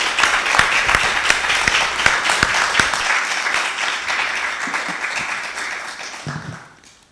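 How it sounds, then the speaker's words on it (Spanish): Loud audience applause at a book talk on "Pinochet desclasificado", dense clapping that holds steady for several seconds and then tapers off at the end. "un aplauso para ustedes"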